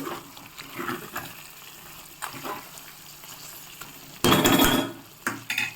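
Chicken curry with coriander and curry leaves being stirred in a pan: soft frying sizzle under scattered scrapes of a spoon, then a louder burst of clattering stirring near the end.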